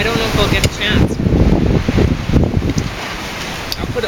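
Strong gusts of wind buffet the microphone in a loud, continuous rumble with rustling that swells and fades throughout.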